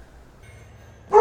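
Joey the dog lets out a single loud, sharp bark at the very end, after a stretch of quiet room tone.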